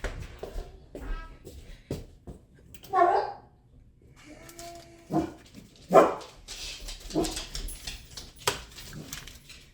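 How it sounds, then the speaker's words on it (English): Scattered dog barks ring out at intervals, some sharp and near, others softer, mixed with shuffling noises and brief voices. "Okay, dogs are barking."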